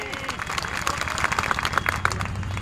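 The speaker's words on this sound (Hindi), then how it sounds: "जोर से ताली बजा के बताओ, क्या हो रहा है?" An audience claps at a Hindi-language gathering. Dense, busy hand clapping is layered with voices throughout a short stretch.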